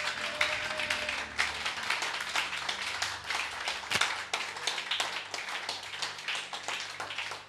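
Church congregation clapping to acclaim Jesus after a sermon, with steady, dense applause of many hands continuing throughout at moderate volume in a reverberant hall.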